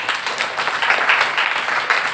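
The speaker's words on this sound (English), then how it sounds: "So give a good applause to him." Seminar participants at a national academic seminar clap for a professor, a short, fairly loud spell of close, dense applause with an uneven patter.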